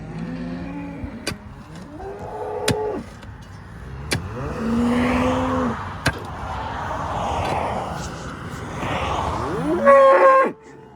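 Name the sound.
cattle mooing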